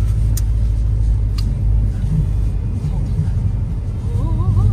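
A Subaru WRX STI with a manual gearbox drives and turns around, its engine rumbling low and steady from inside the cabin, with faint voices at times.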